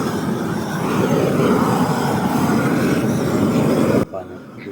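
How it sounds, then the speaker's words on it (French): A roofer's blowtorch burns weeds among seedlings in a vegetable garden after rain, a loud, steady roaring rush of flame held close, cutting off abruptly near the end to a quieter background. "J'utilise un chalumeau qui sert d'habitude aux couvreurs."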